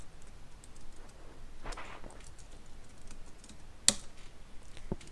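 Soft keystrokes on a Mac computer keyboard typing a server command, quiet and irregular with a few sharper clicks near the end, no voices.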